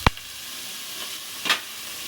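Onions frying in hot oil alongside potatoes, giving a steady low hiss with a sharp splash at the start and a brief louder crackle near the end, close and alone with no voices.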